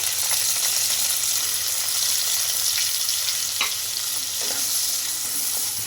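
Onions frying in oil in a kadai sizzle with a dense, constant hiss, with occasional light clinks and stirring scrapes heard close up and no voices.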